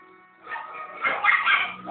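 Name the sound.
dog barking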